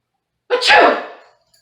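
A human voice imitates a bear's sneeze during a children's story reading, one loud, close 'achoo' burst after a moment of silence.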